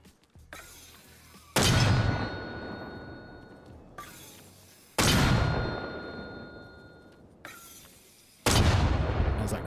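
In Arma Reforger, a mortar fires high explosive rounds as three loud, close booming shots a few seconds apart, each a sharp thump decaying into a rumbling tail.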